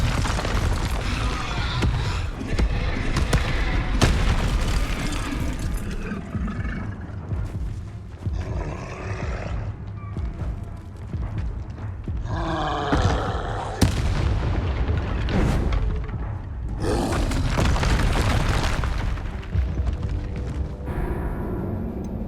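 Fire spell casting and explosions in the Hogwarts Legacy video game: loud, dense booming blasts and roaring fire bursts that continue throughout with almost no letup.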